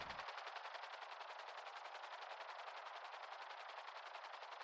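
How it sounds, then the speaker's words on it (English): Continuous rapid automatic gunfire from a roleplay video game rattles on steadily without pause, an even stream of fast shots at low volume. "Why is this just shooting straight up in the air?"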